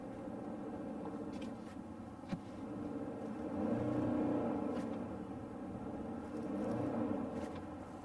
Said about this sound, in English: That was a pretty aggressive engine brake. Downshifting.